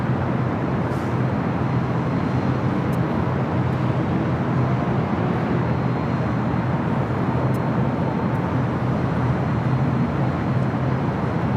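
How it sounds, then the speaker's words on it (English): A continuous low broadband jet roar from an Airbus A350-1000 landing on runway 25 left at LAX, loud and steady throughout with no speech. "A350 1000 touching down 25 left."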